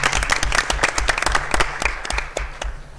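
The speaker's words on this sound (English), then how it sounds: "why don't we give a round of applause for our athletes" Applause for student athletes at a school board meeting: a room full of people clap steadily and fairly loudly for about three seconds, with the claps easing slightly near the end.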